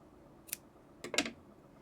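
Scissors trim short yarn ends on a small crocheted ice-cream bear keychain, giving two quick close snips, a lone click followed by a louder double cut, in a quiet room.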